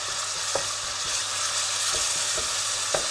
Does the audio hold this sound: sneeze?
no